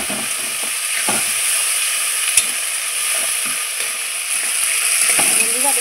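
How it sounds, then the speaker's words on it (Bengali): Spices seasoned with salt and turmeric fry in oil for mutton kosa, a loud continuous sizzle broken by repeated scraping strokes of a spoon stirring the pan. "দেখুন আমি মশলাটা কত সুন্দর করে কষিয়ে নেব।"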